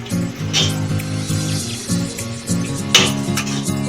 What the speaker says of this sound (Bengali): চাউমিনটা খুব সুন্দর হচ্ছে দেখেই বোঝা যাচ্ছে